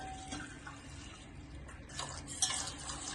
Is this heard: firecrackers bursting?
no